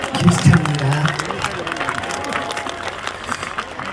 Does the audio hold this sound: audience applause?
yes